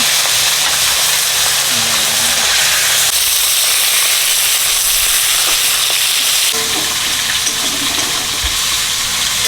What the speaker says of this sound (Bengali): বাকি মাছ ভেজে নিচ্ছি